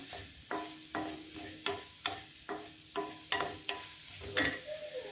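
Onions with chili and a small piece of ginger fry in oil as they are stirred, giving a soft steady sizzle broken by regular scraping strokes of a utensil in the pan, close and moderate in level.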